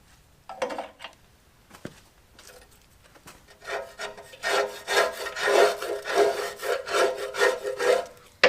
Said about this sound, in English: I officially need a break from scraping